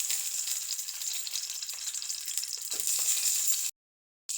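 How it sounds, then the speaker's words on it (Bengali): Eggs fry in hot oil in a wok, a continuous crackling sizzle that holds steady, then briefly swells before cutting off abruptly near the end. "ডিমগুলোকে কড়াইয়ে ছেড়ে দিব।"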